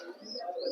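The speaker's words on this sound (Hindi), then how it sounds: "सफेद आँख के कबूतर है" Pigeons with white eyes, a short close call with soft cooing tones heard alone, lasting under a second.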